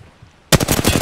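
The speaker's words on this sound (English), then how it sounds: "Getting shot at." Rapid bursts of automatic gunfire in the video game Apex Legends crack in loud, after a quiet half-second, then keep firing in a steady, dense rattle of repeated shots.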